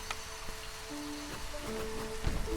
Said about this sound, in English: The rain is getting heavier.